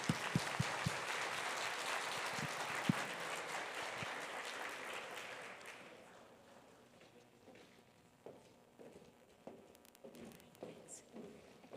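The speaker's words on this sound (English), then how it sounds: "A round of applause to our keynote and all the panelists for an incredible session." Audience at a Catholic university general assembly applauding a keynote speaker and panelists, loud dense clapping that fades after about six seconds into scattered claps, shuffling and faint room noise.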